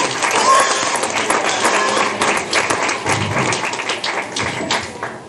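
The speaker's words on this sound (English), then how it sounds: "Why don't we give Casey and the rest of the Swine Committee a big round of applause?" A crowd at a 4-H/FFA county swine show gives a round of applause, dense steady clapping mixed with thumps and tapping, with a voice speaking under it.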